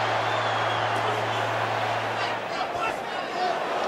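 Boxing arena crowd during a Canelo Alvarez vs Billy Joe Saunders title fight, a dense, steady roar of cheering and murmuring spectators filling the whole stretch with a low constant hum underneath.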